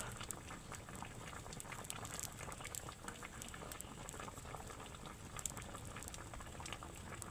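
A pot of bananas bubbles at a steady rolling boil, with continuous dense popping and gurgling close up and no voices.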